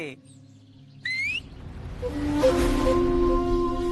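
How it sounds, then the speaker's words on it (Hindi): A person whistles, a short rising tone followed by steadier sustained whistled notes over a low background hum, close and moderately loud, with no talk. "तो बता कैसे बजाता है सीटी?"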